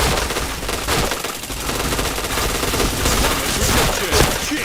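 Rapid, dense automatic gunfire from a shooter video game, loud bursts running almost without a break.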